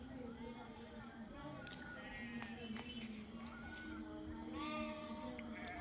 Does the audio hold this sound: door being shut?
no